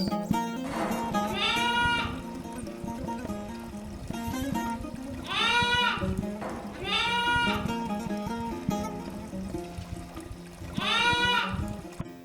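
A lamb bleats repeatedly, four wavering calls spaced a few seconds apart, over a steady outdoor village background with running water.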